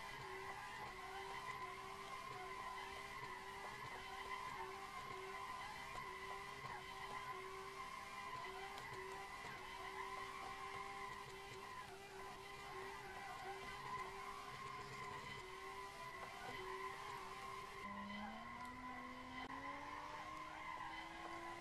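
Tires skid continuously as a Tofaş is drifted in fourth gear on a mountain road in Assetto Corsa, a steady loud squeal over engine drone that shifts pitch near the end as the engine note climbs.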